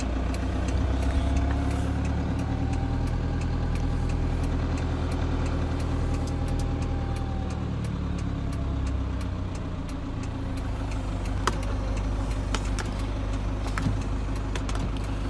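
A 2015 Toyota Land Cruiser Prado engine idles in a steady low hum with faint clicks and ticks, close and continuous, no talking.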